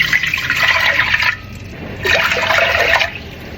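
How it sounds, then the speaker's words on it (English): About two cups of water pour into a pot while making a spice tea for coquito, two close, loud splashing bursts separated by a short pause. "Add in about 2 cups of water."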